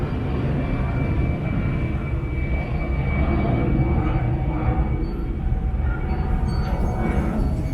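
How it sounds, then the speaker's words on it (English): Airplane passing overhead outdoors, a broad continuous roar of jet engines, loud and steady across the whole stretch with no voices. "Just let's wait for that airplane."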